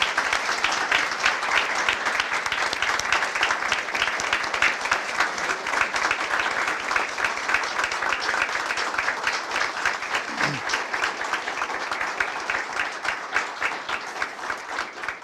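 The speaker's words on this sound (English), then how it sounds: "Can we give you guys a round of applause?" Sustained applause for dispatchers and officers at a city council award ceremony in Jacksonville, a dense, even round of clapping from a crowd that carries steadily throughout.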